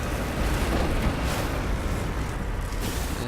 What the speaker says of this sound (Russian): Взрываем его.